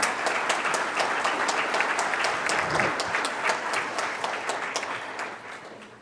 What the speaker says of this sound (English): Please, let's give them a round of applause for being here today.